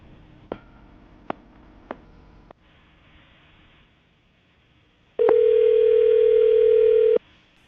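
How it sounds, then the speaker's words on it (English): A few short beeps of phone dialing, then quiet line noise, then one long steady ringback tone lasting about two seconds. "I'm about to dial the phone number right now"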